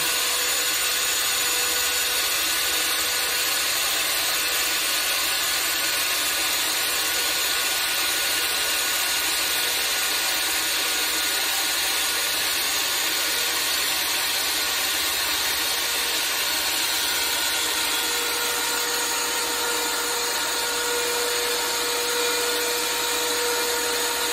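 A Sney pipe threading machine runs steadily while cutting pipe, a loud continuous whine with a high-pitched tonal hum that holds evenly throughout, with no voices.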